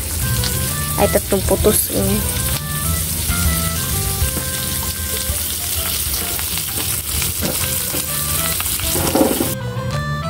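Three pieces of dried fish (tuyo) fry in hot oil in a pan, giving a steady loud sizzle and crackle throughout. Someone speaks briefly over the cooking.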